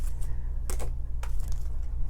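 Tarot cards are shuffled in a few short papery riffles and clatters over a steady low hum, with no voices.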